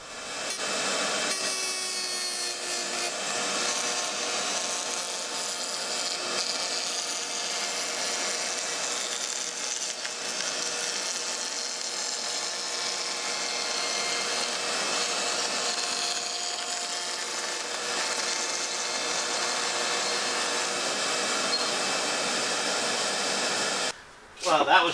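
A router hums at a high pitch as it cuts a wood panel, one continuous loud whine that holds steady for the whole stretch. It cuts off abruptly right at the end.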